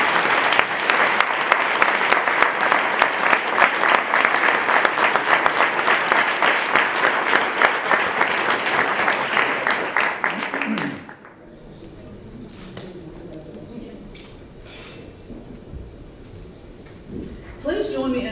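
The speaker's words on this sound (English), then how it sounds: "Please join me in another round of applause for all these wonderful" An audience at an awards celebration breaks into sustained applause, loud and dense for about eleven seconds before it stops, followed by a quieter stretch with a person speaking.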